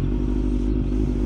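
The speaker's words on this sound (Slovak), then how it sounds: "Ja, už by mi vyplo motorku." A Yamaha MT motorcycle engine runs steadily with a low, continuous drone and slight rattling texture, close and constant with no speech.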